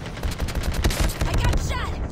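Rapid gunfire from the mobile shooter Call of Duty: Mobile in a prop hunt battle royale match, a dense burst of shots over continuous game noise, with a voice briefly heard in the mix.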